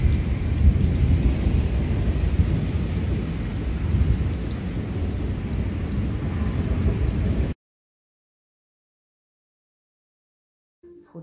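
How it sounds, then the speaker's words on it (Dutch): Heavy rain and strong wind roar steadily with deep rumbling gusts for several seconds, then cut off abruptly to silence before a brief faint noise at the end. "Het waait aan de achterkant keihard en het regent keihard."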